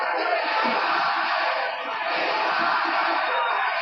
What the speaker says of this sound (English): Crowd starting to roar.